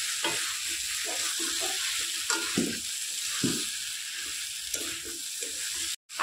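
Soybean chunks and potatoes are stir-fried in a pan: a constant sizzling hiss with repeated scraping and clattering of a spatula, loud and close, ending in a brief drop to silence.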